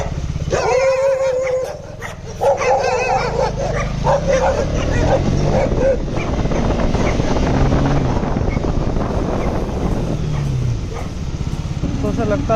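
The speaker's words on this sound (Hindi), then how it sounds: "अपने मोहल्ले के कुत्ते हैं ये, फिर भी भौंक रहे हैं" Neighbourhood dogs bark repeatedly outdoors in loud bursts, with strong wind buffeting the microphone and a person talking over part of it.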